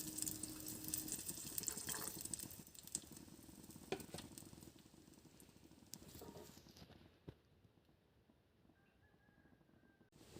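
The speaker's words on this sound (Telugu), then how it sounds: "ముక్కలన్నీ పూర్తిగా మగ్గిపోయిన తర్వాత పులుసు కోసం వాటర్ పోసుకోవాలి" Water poured into a pan of softened mixed-vegetable pulusu gives a close, rushing splash with a sizzle for several seconds, then fades to a quiet simmer with faint clinks.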